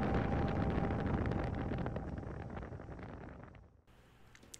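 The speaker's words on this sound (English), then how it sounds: "we're taking a super high-speed ferry on the way back, and this thing moves" High-speed ferry racing across the Greek island sea, a loud roaring rush of wind and water that slowly eases, then drops abruptly to a quieter hum near the end.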